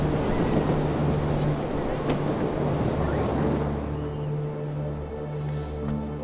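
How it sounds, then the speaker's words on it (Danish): Storm wind roars steadily across the open ice of northeast Greenland during a sled expedition, a loud, continuous broadband rush with a low droning undertone and no voices. "Så vinden er ikke slut endnu. Stormen er ikke slut endnu."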